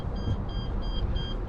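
An electronic device beeps at a house before a storm, a high, thin tone repeating four times at a steady interval over a dull, noisy background.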